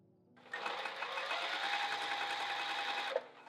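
A sewing machine runs steadily for about three seconds, stitching fabric with a fast, even mechanical whir, then stops abruptly with a small click as the needle settles down.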